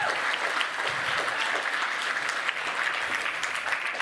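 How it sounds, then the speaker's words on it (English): Steady audience applause for a comedian fills the room, a dense, even clapping from a crowd at a comedy show, sustained without pause and without talk. "give her a round of applause"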